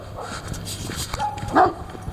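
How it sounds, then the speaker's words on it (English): Neighborhood dogs bark and yip faintly in the distance, a few short calls over heavy wind rumble outdoors. "I think I woke the dogs up."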